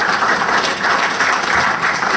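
Audience applause at a Black Hat USA 2010 security conference session, a steady, dense wash of many hands clapping at close range, sustained evenly throughout with no voices above it.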